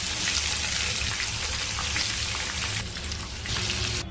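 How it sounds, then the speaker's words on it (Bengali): Pointed gourd (potol) frying in hot mustard oil in a kadai, a steady close crackling sizzle with bright popping spatters, easing slightly near the end. "তেল গরম হয়ে গেছে, পটলগুলো ভালো করে ভেজে নেব।"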